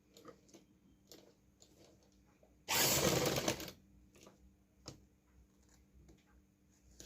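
A sewing machine stitches a seam on a women's suit (kurti) in one loud, brief burst of about a second of rapid mechanical clatter, with soft handling clicks before and after.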